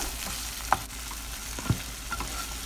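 Tomatoes and onions sauté in a pan with a continuous close sizzle, broken by a couple of distinct spatula knocks against the pan.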